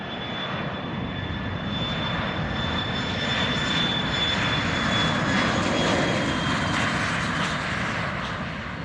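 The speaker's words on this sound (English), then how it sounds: "Flex Jet 409er, runway 16 right, clear for takeoff." Flex Jet 409, a private jet on runway 16 right at Van Nuys Airport, roars steadily through its takeoff run, a loud broadband engine rush with a thin high whine holding for the full stretch.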